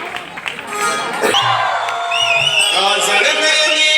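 Crowd at a folk performance in Sangameshwar, Konkan, erupts in loud cheering, whoops and shouts with clapping mixed in, many voices close and sustained.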